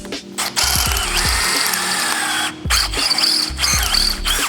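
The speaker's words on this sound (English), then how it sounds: "I'll drill this out now, tap it, because I don't want to put a bolt under there." Quarter-inch drill bit, dull, boring a hole for tapping during a motorcycle sissy bar fabrication; a loud, steady drill whine with grinding squeal and bursts of lower motor rumble, near and continuous without talk.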